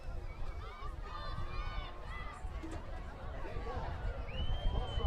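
Spectators at a night football game between the Torrington Trailblazers and Tongue River Eagles keep up a loud, continuous roar of chatter and shouting, with individual voices and whistle-like calls poking through the crowd noise.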